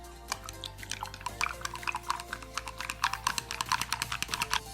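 A spoon stirs dry yeast into warm milk in a bowl for cinnamon rolls, a steady run of quick light clinks and taps close up, with no talking.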